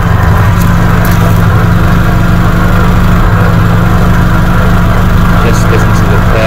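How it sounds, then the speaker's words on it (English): A Volvo 144 E with a 2-litre fuel-injected engine idles smoothly and quietly, a steady low hum running throughout with faint voices in the background. "You hear the purr of the injection engine."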